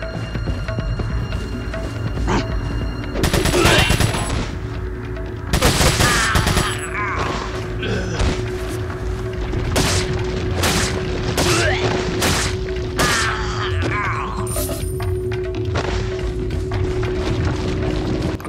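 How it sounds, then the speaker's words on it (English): Video game gunfire from Resident Evil 4 Separate Ways: bursts of loud, sharp shots and booming blasts come in clusters, with ticking and clattering effects between volleys over a steady background hum. "Turn around and start shooting."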